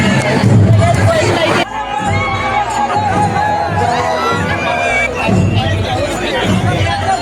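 A dense crowd of pilgrims at a village yatra fair with horse-drawn carts, loud continuous hubbub of many voices and occasional shouts close around.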